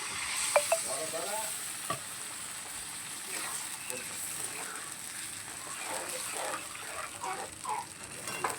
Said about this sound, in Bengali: আমি গ্যাসটা জোরে করেই কষবো। মশলাটা দিয়ে আমি ভালো করে কষিয়ে নিলাম।